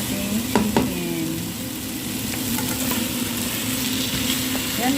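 Chicken pieces for chicken biryani sizzle and fry in a hot pan, a steady close crackling hiss with a couple of brief clinks as they are stirred, no talking.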